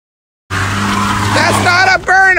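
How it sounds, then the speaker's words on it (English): A car doing a burnout outside a Gucci store, tires squealing loudly and continuously at close range with a steady engine drone, briefly dipping before the screech resumes. "Burnout."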